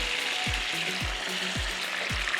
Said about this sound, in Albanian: nëse e veni kështu, në tigan të nxehtë